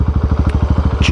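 Husky 701 motorcycle engine idling close by as it pulls up at fuel bowsers on the old Eyre Highway, Nullarbor, a steady pulsing thump with a brief rising whine near the end.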